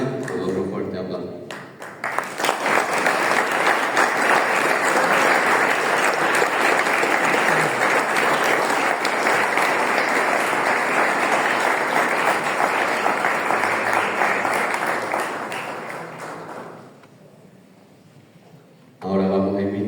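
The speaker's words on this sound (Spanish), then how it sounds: "la cantoría de Mérida con otro fuerte aplauso" After a brief spoken introduction, an audience breaks into sustained, loud applause for the Mérida choir, the dense clapping holding for about fifteen seconds before tapering off into quiet and resumed speech.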